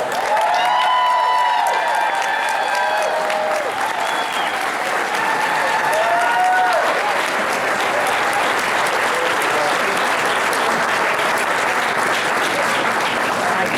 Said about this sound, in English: everybody needs to stand up and give her a round of applause for Congresswoman Maxine Waters